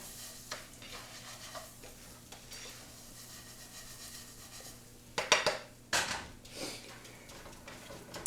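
Dry raw risotto rice being stirred in an oiled pot: a steady faint sizzle and scraping runs throughout, with a few louder spoon-against-pot clanks near the end.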